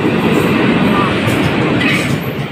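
A loud, close Ganga Kaveri Express train hauled by a WDP4 diesel locomotive rumbles steadily past with a continuous roar of wheels on track, its noise filling the whole stretch.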